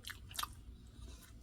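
Soul food being chewed up close, a few moist crunchy bites and mouth sounds in quick succession, quiet and with no talking.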